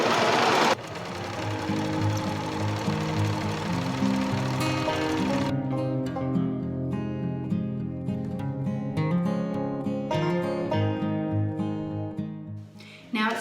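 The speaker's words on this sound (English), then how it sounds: "So I'm just hemming my lining, and then I'm going to hem my actual curtain fabric." A sewing machine hems curtain lining, running with a steady rapid mechanical chatter throughout, layered under music.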